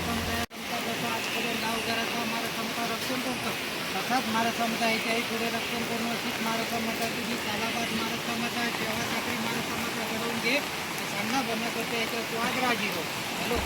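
A steady broadband rush of a flowing river fills the scene continuously, with a faint voice murmuring beneath it.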